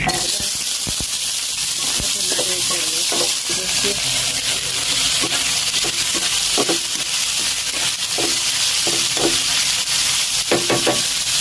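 Onion sizzles in a little oil in a kadai for an egg curry, a close, steady frying hiss broken by repeated scraping and clinking of a spatula against the pan.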